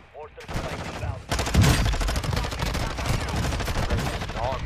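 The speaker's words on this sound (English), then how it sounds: "Hostile mortar strike incoming." Rapid gunfire and explosive mortar impacts in Call of Duty Warzone on Ashika Island form a dense, continuous barrage, with a game voice briefly heard at the start.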